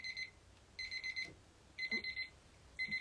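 A dog-shaped kitchen timer goes off during a fan Q&A and autograph session, sounding a rapid beeping alarm in short repeated bursts with brief gaps between them. It is fairly faint and plays alone, with no talking.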